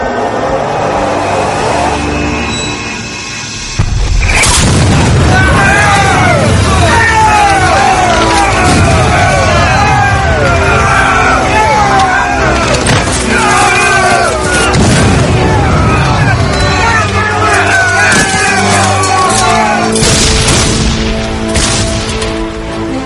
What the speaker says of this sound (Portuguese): Joe Davis e seus homens marchavam para uma infernal barragem de artilharia